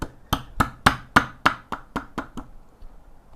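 Mallet blows driving a chisel into wood to cut a mortise, about eleven sharp strikes in a steady, slowing rhythm, close and clear with no talking.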